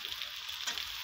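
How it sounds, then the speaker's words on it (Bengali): Spices frying with chopped tomato and spring onion, the base for a cabbage dish cooked in fish oil. A steady, close sizzle carries on alone the whole time, with a brief louder crackle midway. "মশলাটা এইভাবে ভালো করে কষে নেব পেঁয়াজ কলি দিয়ে।"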